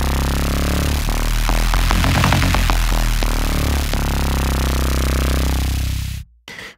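A dense, distorted synth patch with a matched EQ curve applied sustains as a thick buzzing drone, with pulsing rhythmic grit in the middle, loud and close, before cutting off abruptly near the end.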